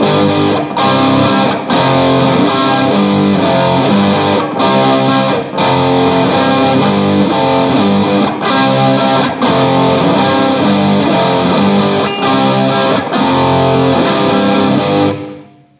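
Distorted electric guitar plays a full song riff slowly, loud steady power chords struck in a repeating rhythm with short accents, continuous for the whole stretch with no voice.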